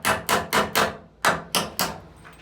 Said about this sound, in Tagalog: Pukpok lang, kunting pukpok ba?